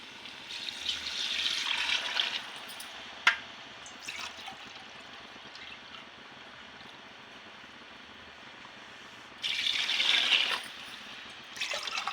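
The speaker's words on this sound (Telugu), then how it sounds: "ఇప్పుడు వాటర్ వేసుకుందాం" Water pours into a pot of rice in two short bursts, a steady rushing splash near the start and again near the end, with quieter moments and a light clink between.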